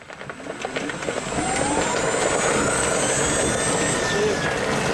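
A Polaris Ranger EV electric utility vehicle with a noise issue drives and accelerates, its motor whine rising into a loud steady whir with rattling and shuddering vibration, close by.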